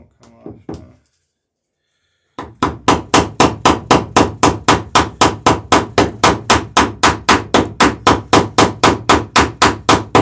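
Rivets on a dinghy hull are hammered in a fast, steady run of about thirty sharp, evenly spaced metallic blows, close and loud, after a brief voice and a pause of silence.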